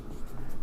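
A pen scratches out a maths solution in short, continuous strokes, close and fairly soft, in a brief burst.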